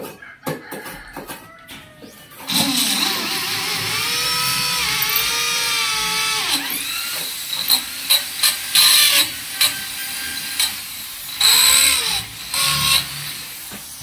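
A power drill bores a hole in wooden molding: a sustained rising motor whine for about four seconds, then a series of short, loud bursts as the trigger is pulsed, close by and with no talking.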